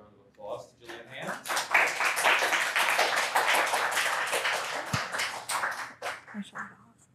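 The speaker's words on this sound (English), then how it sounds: "let's give another round of applause to Gillian Hand" An audience applauds a lecturer, Gillian Hand, after a talk on PRC cyberattacks on Taiwan: dense, sustained clapping swells for about five seconds, then thins out into a few scattered claps.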